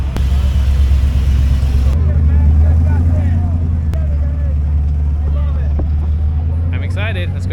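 Off-road wrecker trucks roll out to start a competition, a deep, steady engine rumble with wind buffeting the microphone. A person talks over it throughout.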